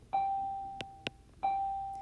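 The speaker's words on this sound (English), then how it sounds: "Lots of bells going on today." Bells ringing in the distance: a clear sustained ding with a long fading tone, then a repeat about a second later, separated by two short sharp knocks, with no voices.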